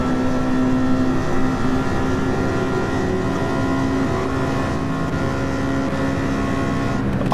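Dodge Hellcat engine in Gran Turismo 7, a steady loud droning roar held at constant pitch throughout, sustained and close with no talking.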